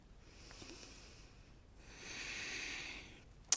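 Two slow, audible breaths during a yoga plank hold, each a soft airy exhale lasting about a second and a half, close to the microphone, with a brief sharp click at the very end and no talking.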